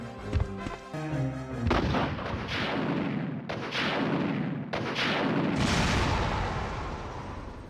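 A rocket launcher fires at a boss in Resident Evil, with heavy booming blasts repeating every second or so, loud and close over a dense rumbling game soundtrack.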